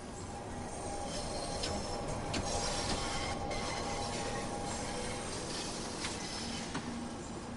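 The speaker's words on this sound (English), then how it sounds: "Sounded like another train going by in the next tunnel." In the Train Sim World 2 video game, another train passes in a neighbouring underground tunnel: a steady, muffled rumble and rattle of rail wheels with faint clicks and squeals, continuous throughout.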